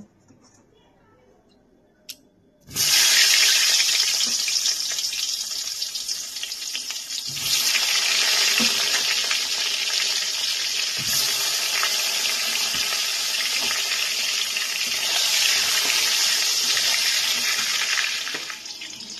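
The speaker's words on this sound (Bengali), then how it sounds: "এবার এই তেলের মধ্যে আমি বেগুনগুলোকে আগে ভেজে তুলে নেব।" Eggplant pieces frying in hot oil, a loud steady hiss that starts suddenly and then keeps going, with brief clanks of a utensil in between.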